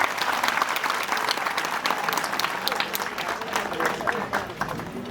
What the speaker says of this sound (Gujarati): તાળીઓથી બધાને બતાવો.